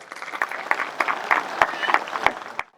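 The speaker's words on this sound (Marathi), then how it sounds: "एकदा महामानवाबद्दल जोरात टाळ्या वाजल्या पाहिजे" An audience at a Ram Navami religious gathering claps briefly, a dense burst of hand claps with a few sharper louder claps, fading out abruptly at the end.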